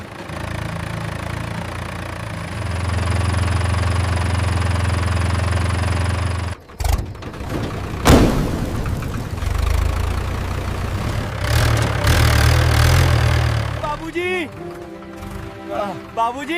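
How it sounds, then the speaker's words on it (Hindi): A tractor engine catches after a push start and settles into a loud, steady chugging idle with a few rattling bumps, heard close up. "बाबूजी, ट्रैक्टर चालू हो गया।"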